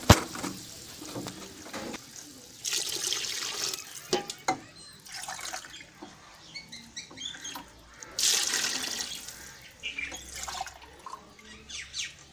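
About three and a half glasses of water are poured from a glass into a pot of potatoes and peas for pulao, two splashing bursts of pouring with quieter drips and clinks between them, up close.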